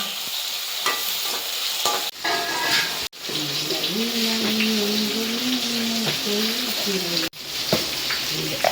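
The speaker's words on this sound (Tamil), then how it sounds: "இப்போ தக்காளி சேர்த்துக்கலாம் அதை நல்லா ஆட்டி ஆட்டி வணக்கலாம்" Tomatoes sizzle in a pan while being stirred and sautéed, with scraping stir strokes and a crackling fry under a voice speaking for several seconds, broken by a couple of sharp clicks.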